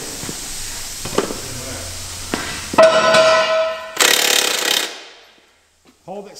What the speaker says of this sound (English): This 18-volt Milwaukee impact is a little too much power for him.